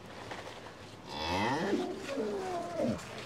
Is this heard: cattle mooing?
yes